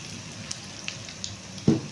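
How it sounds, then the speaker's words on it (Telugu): Spices and asafoetida fry lightly in hot oil for drumstick sambar, giving a soft steady sizzle broken by a few sharp pops and one louder crackle. "ఇంగువ ఇవంతా మనకు లైట్గా ఫ్రై అవ్వాలి"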